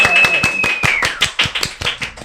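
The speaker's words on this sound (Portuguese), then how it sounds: "Minha gente, uma salva de palmas." A small group at a podcast recording claps close by in a brisk, even rhythm of about a dozen sharp claps over two seconds.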